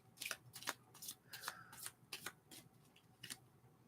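Tarot cards being shuffled by hand in a quiet room: a series of crisp, papery riffles and slides in quick bursts, close and fairly soft, with no talking.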